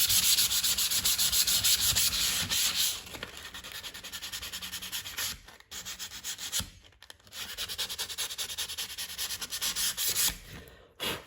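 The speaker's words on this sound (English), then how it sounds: "Just want to grab your 180. Give it a little light sand." Light sanding of wood with 180 grit sandpaper during wood-burning prep: steady, loud rubbing strokes in a rhythmic back-and-forth, pausing briefly twice before resuming, with no talking.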